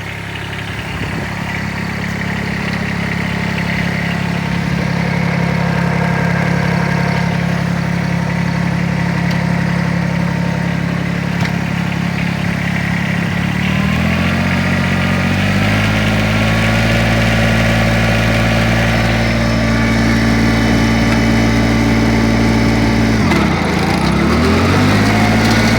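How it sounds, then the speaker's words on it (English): A small Kubota tractor engine runs steadily at close range, droning for the whole stretch, with its pitch and load shifting partway through. "show you what the little tractor will do"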